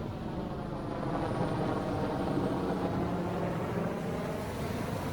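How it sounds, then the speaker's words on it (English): A steady low rumble of a rescue helicopter overhead, continuous and moderately distant, with faint background noise and no voices. "That was some sort of rescue helicopter."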